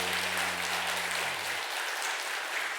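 A church congregation at a children's Sunday worship service gives steady, dense applause throughout, a continuous wash of clapping hands with a low voice fading out early on.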